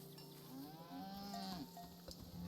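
A cow moos in the video game SEASON: A letter to the future, one long drawn-out bellow heard close and alone against a faint background.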